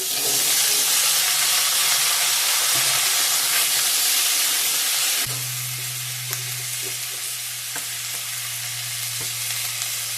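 Cut vegetables, including potato, stalks and tomato, fry in a pan with ginger, loud and close: a strong hissing sizzle, then a sudden shift to a lower bubbling fry with occasional stirring clicks once the vegetables go in.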